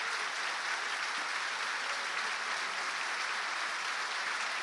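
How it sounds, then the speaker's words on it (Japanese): Sustained standing ovation from a packed wrestling crowd at Korakuen Hall, a dense, unbroken roar of clapping at constant loudness with no voices standing out. "この拍手が、この拍手の音が届いていると思われます"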